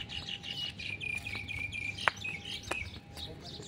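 Outdoors, birds chirp and tweet in short repeated calls over a faint background of insect hum, with one sharp click partway through.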